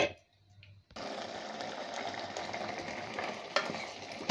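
Rice cooking in ghee and coconut milk is stirred in a pot, a continuous close scraping and bubbling hiss that starts abruptly after a brief quiet moment and runs steadily with a few sharper knocks.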